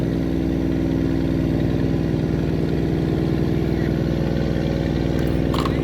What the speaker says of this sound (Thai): เรือลำนี้ใช้ เครื่องยนต์ของคัมมินนะฮะ